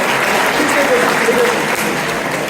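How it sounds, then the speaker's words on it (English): An audience at an ARTH-2023 event claps loudly and continuously for teams after a game, a close, dense wash of applause with voices talking over it. "Can you please clap for them?"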